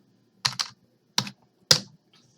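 Typing on a computer keyboard in a quiet room: a few sharp, close key clicks in short irregular bursts with gaps between them.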